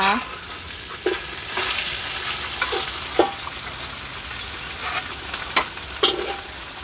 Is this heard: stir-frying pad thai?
yes